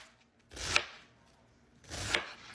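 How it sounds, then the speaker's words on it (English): Two separate bursts of a knife chopping cabbage into small pieces on a board, each a short cluster of quick cuts, close and fairly quiet, with a pause between them. "we're just gonna cut it up really small"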